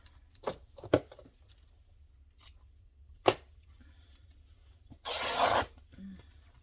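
Scissors snip through craft fabric for a pond-life junk journal cover, a few sharp separate cuts up close, then a louder rasping rustle of the cloth being handled near the end; no talking.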